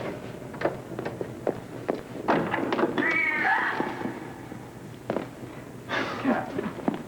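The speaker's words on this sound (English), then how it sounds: "Cat." Indoor cat meowing a few times in a quiet room, with short rising cries in the middle and near the end, plus light footstep-like knocks; no talking over it.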